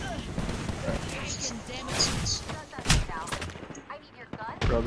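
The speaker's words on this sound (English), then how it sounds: "there's so many other teams shooting at me" Gunfire from rival teams in Apex Legends rattles in rapid bursts and single cracks, some near and some farther off, overlapping with other game effects.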